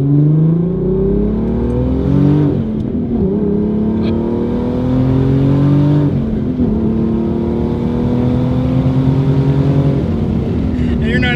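A twin-turbo 3.7L V6 S550 Ford Mustang revs hard on a dyno during a tune, its loud engine note climbing and falling repeatedly up close, with voices partly mixed in.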